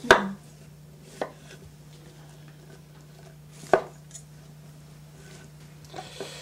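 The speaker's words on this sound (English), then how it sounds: "I like cutting it into small pieces because it just cooks faster" A knife chops food into small pieces on a board, with a few sharp, separate knocks spread across the stretch and quiet gaps between them.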